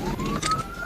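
Police car siren wailing close by during a high-speed chase arrest, a loud rising electronic tone that sweeps upward steadily over a rumbling engine and street noise, with no speech over it.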